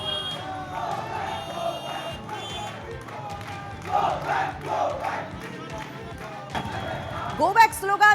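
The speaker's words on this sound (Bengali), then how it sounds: "গো ব্যাক স্লোগান, জয় বাংলা স্লোগান সবই চলল রাজ্যের বিরোধী দলনেতা শুভেন্দু অধিকারীকে ঘিরে" A political crowd chants Go Back and Joy Bangla slogans around opposition leader Suvendu Adhikari in Barasat, a dense rhythmic roar of many voices rising in waves, heard at middle distance with a reporter's voice partly over it.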